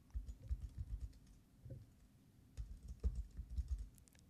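A computer keyboard is typed on in two short bursts of quiet, close keystroke clicks separated by a brief pause.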